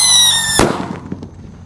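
A Pearl Thunder firework gives a high whistling squeal, then a sharp, loud bang, followed by a scatter of fading crackles and pops close by, with no voices.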